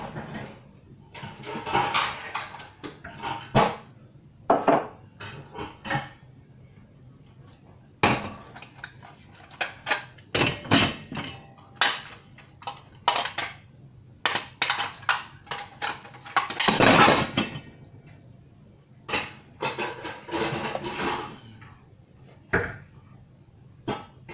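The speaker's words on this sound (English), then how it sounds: "So I'm gonna change the pot, which I'm gonna use." Cooking pots being swapped and handled while preparing rice and peas for a Sunday dinner, with irregular metallic clanks, knocks and scrapes coming in scattered bursts with quiet gaps between, close and fairly loud, without talk.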